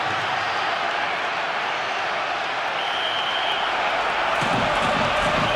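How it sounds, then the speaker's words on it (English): A football stadium crowd celebrating a goal in a UEFA Champions League match, heard as a steady, dense roar of cheering and applause that swells slightly near the end. "Crowd in celebratory mood."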